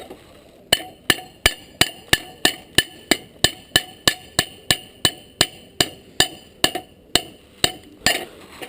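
A hammer strikes a hot welded steel belt buckle on an anvil in a forge, ringing out about twenty sharp, metallic blows at a fast, even rhythm, close and loud, with a short pause near the end.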